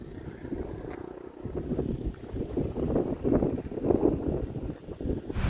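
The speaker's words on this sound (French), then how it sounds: "J'ai un bon petit vent d'eau, là," Wind rumbles and buffets the microphone in low, gusty swells during a bicycle ride past a Brazilian marsh, growing stronger toward the middle, with a faint watery wash beneath and no talking.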